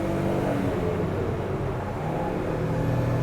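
A 1999 Suzuki Carry Turbo 4WD kei truck engine pulls steadily in third gear up a hill, a continuous close drone that holds without any talk.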